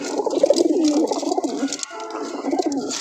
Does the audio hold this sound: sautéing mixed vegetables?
no